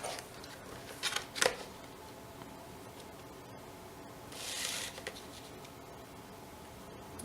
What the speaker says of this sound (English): it cuts through this paper or this chipboard with no problem whatsoever